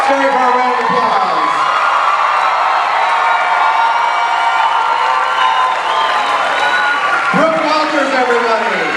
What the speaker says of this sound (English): please give them a warm Scary Farm round of applause